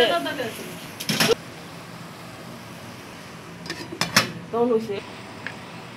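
A metal lid clanks onto a cooking pot of red amaranth greens, one sharp clatter early and another cluster of metallic knocks later, with someone talking in between.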